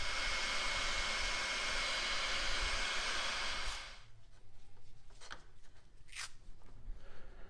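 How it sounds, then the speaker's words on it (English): Heat gun blows steadily as it shrinks heat shrink tubing over wire connections for a Subaru front tweeter install, a loud close hiss that cuts off after about four seconds and leaves quiet handling noises. "use a heat gun and shrink the tubes"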